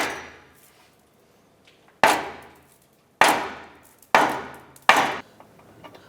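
Metal rings out from four hard hammer blows on an exhaust flange of a 2004-2008 Acura TL being broken loose during catalytic converter replacement, each strike sharp and close with a short decaying ring.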